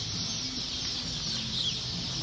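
Six-week-old Cornish Rock meat chickens clucking and murmuring at a hatchery, a soft continuous flock chatter with a steady bright background hiss and no talk.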